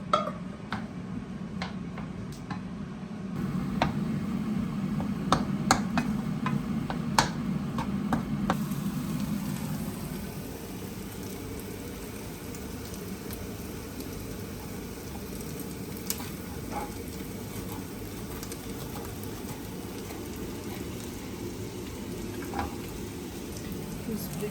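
Potatoes sizzle in butter with onion and garlic in a chalet kitchen in the Swiss Alps, a steady rain-like hiss that softens after the first few seconds, with a voice talking over the early part.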